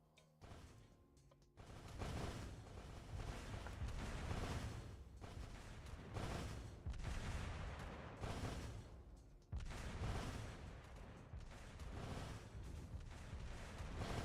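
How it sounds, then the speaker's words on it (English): Azur Lane mobile game battle audio, dense continuous bursts of explosions and gunfire-like booms with clicks, loud and sustained after a quieter opening, with no talking. "Game sound is just clicks and explosions anyway."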